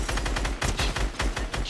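Rapid automatic gunfire in a Fortnite match, a close, loud burst of evenly spaced shots roughly five per second, with no talk over it.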